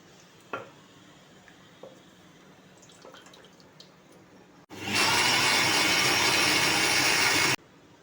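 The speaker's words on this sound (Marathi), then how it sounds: "याच मिक्सरच्या भांड्यामध्ये थंड झालेला पालक आहे त्याची मी पेस्ट करून घेते" A few quiet clicks and taps, then a mixer grinder roars on loudly for about three seconds grinding cooled spinach into paste before cutting off abruptly.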